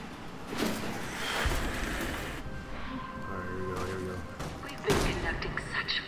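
Gunfire in the Resident Evil 6 Chris campaign, played in co-op: a couple of sharp shot bursts against a busy game soundscape, with voices talking over the action.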